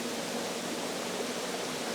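A waterfall on the Atlantic island of Madeira gives off a steady, dense rushing roar that fills the whole moment without change, close and loud, with no voices.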